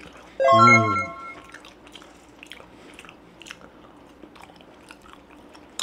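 A close, crisp bite into red guava jelly with a short burst of chewing, then quiet, soft mouth sounds and faint clicks trailing off.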